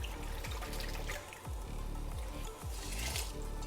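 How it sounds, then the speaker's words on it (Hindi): Water pouring from a vessel into rice in a cooking pot for dal chawal, a continuous loud gushing splash that stays steady throughout, with no talking. "इसको आप पानी इसमें डालें अपने अंदाजे से"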